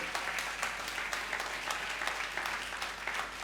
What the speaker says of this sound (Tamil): கைத்தட்டு பார்க்கலாம், நல்ல கைத்தட்டு, நம்பிக்கையோடு